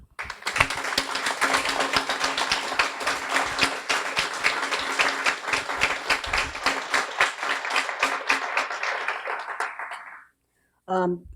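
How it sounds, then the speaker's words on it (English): A graduation audience at a guide dog school gives puppy raisers and foster parents a long round of applause, dense and steady for about ten seconds before stopping abruptly, followed by a brief voice. "I'd like to give them a big round of applause"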